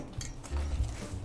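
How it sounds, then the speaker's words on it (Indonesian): A spoon scrapes and stirs butter and powdered sugar in a bowl for cinnamon roll dough, giving soft, close, continuous scraping with faint clinks. "Boleh diaduk aja"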